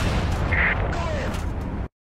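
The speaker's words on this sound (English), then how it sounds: "Now, switch to gunner view and fire at the tank engine." A tank cannon firing at an enemy tank's engine in War Thunder, a heavy booming blast with rumbling low end that cuts off abruptly, with battlefield noise around it.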